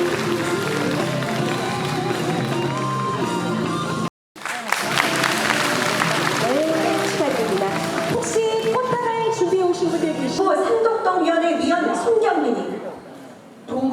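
Audience applause at a Daegu members' assembly and award ceremony, broad sustained clapping from a large crowd, briefly cut off once, with music and voices rising over it in the second half.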